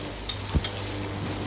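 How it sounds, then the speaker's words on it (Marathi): Onions stir-fry in a pan for a spiced whole masoor dal, a faint steady sizzle with a couple of soft scraping stirs, no voices. "तांबूस कलर येईपर्यंत आपल्याला कांदा हा छान परतून द्यायचा आहे."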